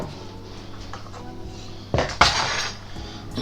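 Kitchen items pushed aside on a counter while baking oaty apple muffins: a quiet background, then a couple of close glassy clinks and clatters of dishes in quick succession.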